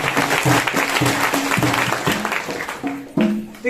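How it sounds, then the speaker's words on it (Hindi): A crowd at a Christian preaching event applauds loudly and continuously, with dense clapping that swells briefly near the end, mixed with faint tonal sounds underneath. "एक बार जोरदार तालियां तो बजा दो"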